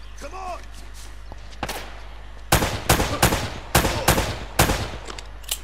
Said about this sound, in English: So I can hear two people shooting.